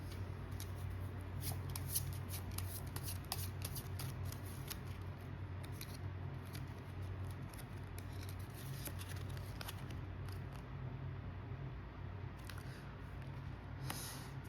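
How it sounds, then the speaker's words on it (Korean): Oracle cards being shuffled during a tarot reading, a steady soft papery rustle and riffle running throughout at low level, with a constant hum beneath and no voices. "마지막으로 오라클 카드까지 좀 뽑아보도록 할까요?"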